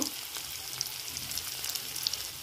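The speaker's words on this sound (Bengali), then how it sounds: "রসুন কুচি ভেজে নেব লাল লাল করে একটু।" Chopped garlic, green chilli and tomato sizzle steadily in hot oil with turmeric added, a close, continuous frying crackle with small pops scattered throughout.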